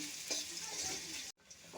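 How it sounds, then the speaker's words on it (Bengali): Green chili fries in hot oil in a wok, giving a short burst of bright, close sizzling that cuts out briefly and resumes. "আর কাঁচামরিচটা একটু ভেজে নিচ্ছি"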